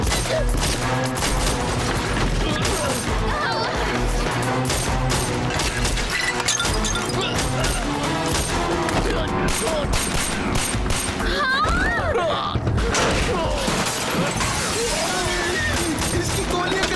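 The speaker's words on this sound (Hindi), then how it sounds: "इसकी गोलियां कभी खत्म नहीं होंगी क्या?" Sustained bursts of automatic gunfire in a Hindi-dubbed Mummy adventure film, with dense rapid shots, shattering and crashing impacts, mixed with dramatic music and occasional dialogue.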